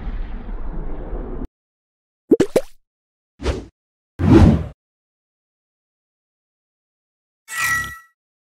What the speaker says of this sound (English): I'll show you how to create this awesome explosion effect inside of Unity